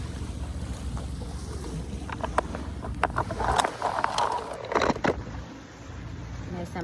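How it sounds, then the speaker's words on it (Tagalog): Sea waves wash ashore at a beach with a rushing, surging roar under wind buffeting the microphone, swelling midway and then easing. "Nice ang dagat no"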